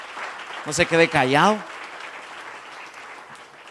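A church congregation applauds during a service: a brief voice rises over the clapping, then sustained applause carries on as a steady wash of noise.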